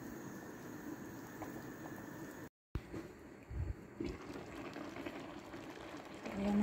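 Rice simmers in water in a pot with a faint, continuous bubbling hiss, quiet and near, broken by a brief dropout and a few soft knocks.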